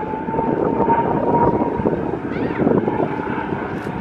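Steady droning propeller aircraft engine during a pull-up, loud and continuous, with a slight swell in pitch midway and some wind buffeting.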